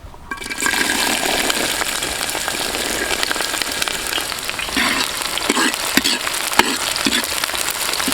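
Shallots hit hot coconut oil in a heavy uruli and fry with a loud, continuous sizzling crackle, steady throughout with occasional sharper pops.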